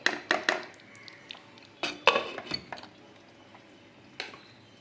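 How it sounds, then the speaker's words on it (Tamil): A lid set onto a pot of oily eggplant curry, heard as a quick series of sharp metallic clinks and clatters close by, a few scattered knocks spread over several seconds with quiet gaps between them. "நான் மூடி போட்டுக்கிறேன்"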